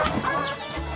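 Short clucking calls from Ataks laying hens, fairly close, with a brief rising cackle over steady low background noise.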